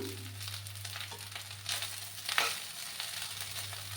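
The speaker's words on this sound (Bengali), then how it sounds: "এবার আমি এক চামচ ঘি অ্যাড করে দিলাম" Ghee sizzles and fries with leftover rice in a pan as a continuous close crackle, with a few louder stirring scrapes in the middle.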